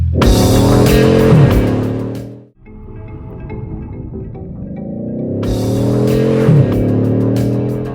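A Bugatti Chiron drives, engine roaring loud and close through rising revs, then cutting off abruptly into a quieter stretch before another strong surge builds again.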